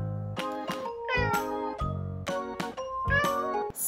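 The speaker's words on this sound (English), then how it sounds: "C is for cat." An animated cat in a toddler alphabet phonics song meows several times in quick succession, with clear, tuneful meows close up and blended with music.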